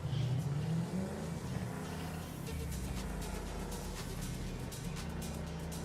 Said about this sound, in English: Let's get on a motorcycle.